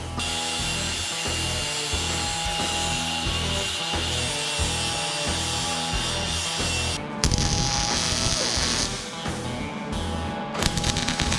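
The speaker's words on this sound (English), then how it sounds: "Let's grab the grinder and the welder and see if we can make one of these work." A grinder works on metal while fabricating a race Jeep, an Ultra4 build with an LS3 engine, giving a loud, continuous, pulsing whine with a brief change in tone partway through.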